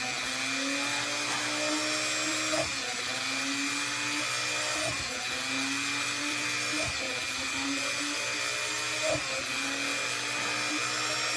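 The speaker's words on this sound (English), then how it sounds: "And you want to drill the holes right on the line." A power drill bores a row of holes along a marked line in a wooden trivet, its motor whining steadily with a few brief dips and surges as each hole is cut, close and alone.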